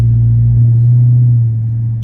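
A Dodge 6.4-litre SRT8 V8 idles with a loud, steady, close-up rumble. The owner suspects a lifter tick or an exhaust manifold leak, and no one speaks.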